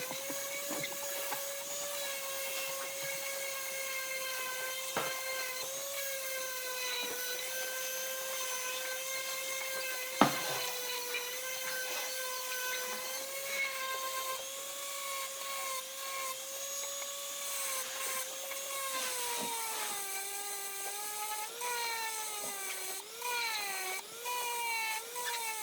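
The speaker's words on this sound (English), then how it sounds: "And now it's time for a sanding." Sanding the weathered wood of an old bird table makes a steady, close whining hum with a gritty rubbing texture that holds evenly throughout, with no voices.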